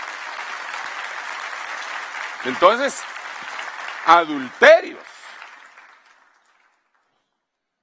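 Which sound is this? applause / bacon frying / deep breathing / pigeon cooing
applause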